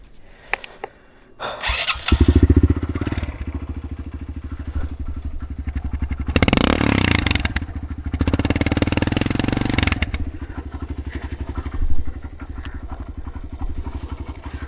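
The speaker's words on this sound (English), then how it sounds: "I'm excited to see what the exhaust sounds like" A dirt bike engine fires up and revs hard out in the desert, the exhaust roaring loud and close with a throaty rumble that surges and settles to a steady idle.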